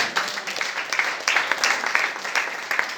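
Church congregation applauding for Jesus during a sermon, dense steady clapping from many hands that fills the space evenly for a few seconds.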